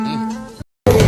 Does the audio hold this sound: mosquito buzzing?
yes